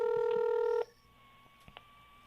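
A telephone dials a number, a steady keypad tone that cuts off abruptly before a line hum and a couple of faint clicks, close and clear.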